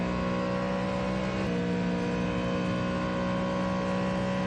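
A Ford Mustang GT3 race car on track at the Le Mans 24 Hours, its engine a loud, continuous high-revving drone that holds steady with a brief shift in pitch early on.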